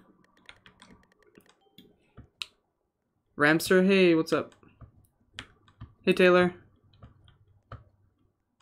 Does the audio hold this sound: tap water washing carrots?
no